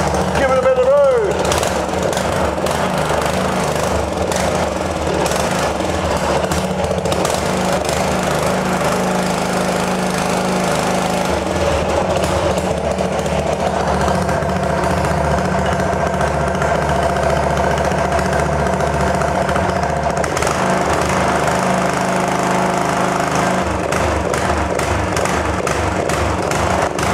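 An old, rusty Briggs & Stratton engine on a homemade mini trike runs loud and close after starting on the first pull, a steady rough chugging that holds throughout.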